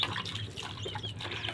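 Water is poured over a pet to bathe it outdoors in hot weather, a faint, continuous splashing trickle heard alone for a moment.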